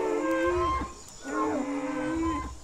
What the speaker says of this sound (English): So, when you hear an Avaceratops,